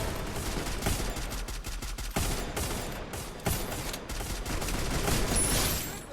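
Rapid shotgun blasts in Free Fire mixed with other gunfire, loud dense volleys with a few brief gaps, continuous through the stretch.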